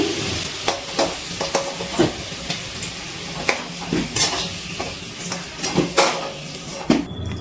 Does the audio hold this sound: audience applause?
no